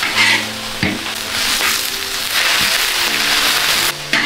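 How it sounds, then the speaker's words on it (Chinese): Vegetables stir-frying in a large wok give a steady, close sizzle with scraping strokes of the spatula against the metal. "用大锅炒菜的好处就是锅大，这样菜都能就得均匀，"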